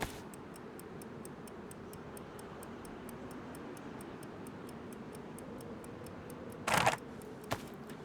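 A kitchen timer ticks in an even, rapid rhythm, faint and close, with a short louder rattle near the end and a single click after it.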